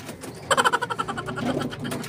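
A pigeon coos close by in a short burst of soft, throaty warbles in rainy weather, then the sound trails off into faint background noise.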